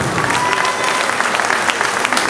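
An audience at a charity event in Algrange applauds, steady dense clapping that fills the whole stretch at constant loudness, close and without talk.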